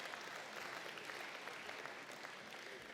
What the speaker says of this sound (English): Listen to that smug applause of all of those people who don't smoke.